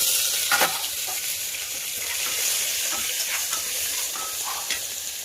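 Onion with crushed garlic and ginger fries in a pan for masala rice, making a moderate, even sizzle and hiss close by, with a few light stirring scrapes.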